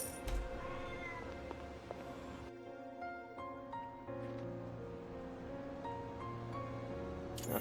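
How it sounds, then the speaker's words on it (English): A cat meows a few times over game background music, with short plaintive calls near the start and a fainter one later. "It's like I heard her meow"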